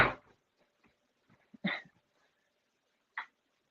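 A dog gives a short whimpering yelp indoors, followed by a couple more brief whines with quiet pauses between them, close to the listener and fairly faint.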